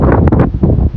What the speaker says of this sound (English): Lots of wind through the pine trees